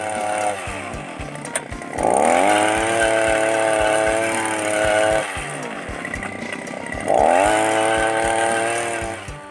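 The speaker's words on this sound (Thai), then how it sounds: "ใช้ เครื่องขุดเลยนะ อาไปดูเครื่องขุด" An engine-powered digging machine drills planting holes on a tobacco plot. Its small, buzzing engine revs up loudly twice and drops back to a rough idle in between, close by.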